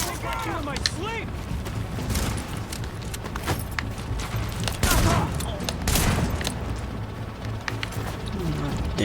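Gunfire rattles through a firefight in the shooter game The Division, with repeated loud bursts and scattered shots over several seconds while a voice speaks over the action.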